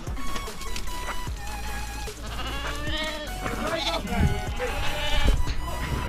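Several wild Irish hill sheep bleat repeatedly and overlap one another, loud and close, during shearing, with people talking in the background.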